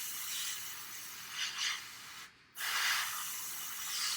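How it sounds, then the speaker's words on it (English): Brown paint hisses steadily from an airbrush onto a miniature model base, a continuous close spray that cuts out briefly for a moment before resuming. "spray a little bit into the base here that I was working on."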